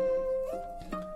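Cello sample pitched up an octave in Ableton, with a sustained bowed note that slides to a new pitch and then another, thin and quiet, with no talking.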